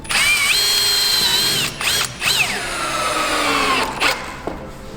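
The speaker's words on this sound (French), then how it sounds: "Je peux faire un petit trait avec la vis et je viens visser" Cordless power drill driving a screw through corrugated steel roof sheeting on a flat roof, a close, loud whirring whine that runs steadily with brief pauses and pitch shifts as the screw bites and the motor slows.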